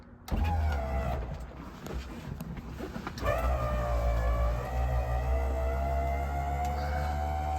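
The electric motor of a 1964 Ford Galaxie 500XL convertible's power top whines steadily as the top lowers by switch, a close, loud hum rising and shifting pitch partway through and running continuously to the end.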